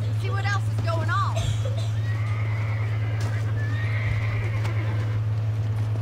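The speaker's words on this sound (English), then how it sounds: "Let's get back on the horses" Horses in the video game Red Dead Redemption, a close whinny followed by steady hoof clip-clop over a constant low engine-like drone, with faint voices in the background.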